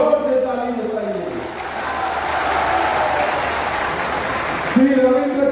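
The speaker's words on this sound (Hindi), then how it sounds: "जोर से ताली बजाइए" Crowd applause at a large Shiv Sena political rally in Palghar, a broad steady wash of clapping from a big audience lasting several seconds, with a speaker's voice over a loudspeaker at the start and again at the end.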